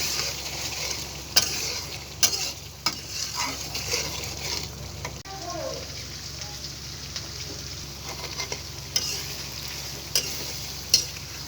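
Beef liver being stirred and fried in a pan, a soft continuous sizzle with occasional spatula clacks and scrapes against the pan, fairly quiet and close, without speech.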